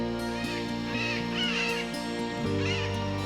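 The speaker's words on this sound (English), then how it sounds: "At dusk, the Derbyan parakeets return from feeding to their comfortable nests." Derbyan parakeets call at dusk as they return to their nests, several harsh, drawn-out squawks coming in bursts over a steady background hum.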